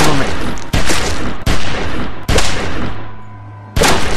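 Gunfire in The Walking Dead video game: loud, rapid shots crack out one after another in sharp bursts, with several separate volleys and a brief lull before a final burst.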